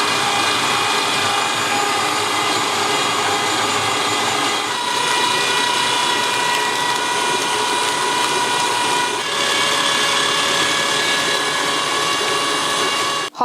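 KitchenAid stand mixer beating icing sugar: a loud, steady motor whine with a constant mechanical hum, rising in pitch slightly partway through as the speed increases, running alone without talk.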